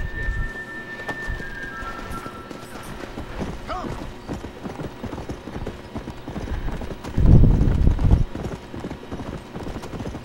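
Steady clip-clop of horse hooves at a trot in the video game Red Dead Redemption, continuous and rhythmic, with a brief louder rumble partway through.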